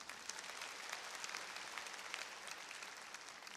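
Sustained applause from a church congregation during a sermon, a steady dense wash of many hands clapping at even loudness throughout, fairly distant and with no voices over it.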